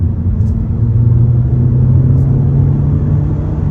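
A 2024 Hyundai Elantra Limited accelerating at about half throttle, its engine giving a steady, loud, low rumble from inside the cabin with a slowly rising tone and no speech.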